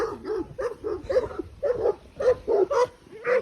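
A small dog yips and barks in a rapid, uneven string of short, high barks, close by and fairly loud, with no talking.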